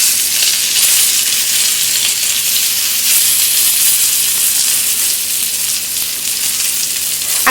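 Stuffed eggplant frying in a pan over medium heat gives a steady, dense sizzle that stays even and fairly loud throughout, with no voices over it.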